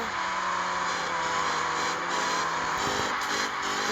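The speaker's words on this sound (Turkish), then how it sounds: "son bir drift attıktan sonra" Car drifting in the mobile game Car Parking, a high engine whine holding steady with faint tire squeal, continuous and fairly loud, with no talk over it.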